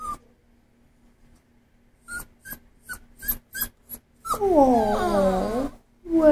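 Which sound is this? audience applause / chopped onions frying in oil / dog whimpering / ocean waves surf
dog whimpering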